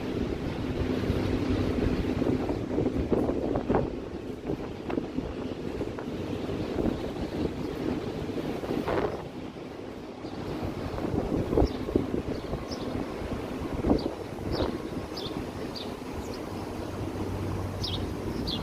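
Wind gusting along a city waterfront on Queen's Quay, a continuous close rushing buffet on the microphone with a low roar underneath and occasional faint clicks and distant sounds.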